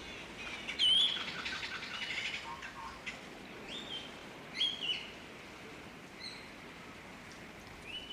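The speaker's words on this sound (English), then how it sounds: "The Valley de Mai has its own bird, the Seychelles black parrot. It feeds on flowers and fruits in and around the valley, its whistling calls echoing among the palm trunks." Seychelles black parrot calling in the palm forest of Vallée de Mai on Praslin, a couple of short, bright whistled notes standing out faintly over a steady wash of forest ambience, with softer chirps scattered through.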